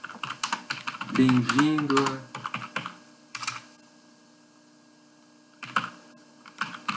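Typing on a computer keyboard in MS-DOS Edit, a light rapid clatter of keystrokes in bursts, heard alongside someone speaking Portuguese nearby.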